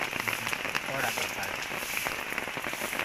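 Heavy morning rainfall in Goa pours down steadily, a dense, unbroken hiss of rain on surfaces that holds at an even level throughout.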